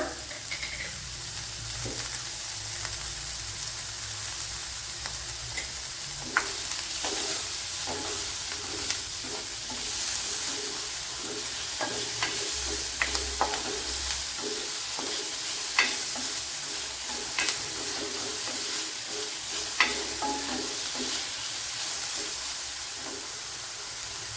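Chopped onion and salt frying in a pan give a continuous close sizzle, with frequent scraping stirs and small ticks throughout.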